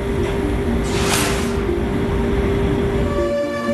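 NJ2 diesel-electric locomotive, a 138-tonne machine, giving a loud, continuous engine rumble with steady tonal hum and a brief hiss of noise early on.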